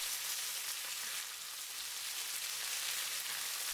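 Chicken pieces searing in hot sesame oil in a pan, a steady, dense hiss and crackle of frying that holds at an even level throughout, with no voices.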